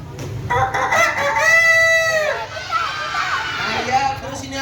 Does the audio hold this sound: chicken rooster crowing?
yes